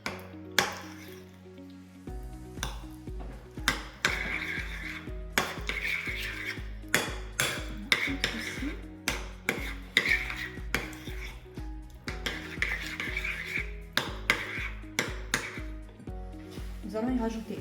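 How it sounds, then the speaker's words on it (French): A spoon mixes Saint-Moré cheese in a bowl for a Mediterranean tart with tomatoes and tuna, making repeated close clinks and soft scraping strokes in a steady rhythm, with faint background music running underneath. "Pendant que la pâte cuit, nous allons bien mélanger le Saint-Moré."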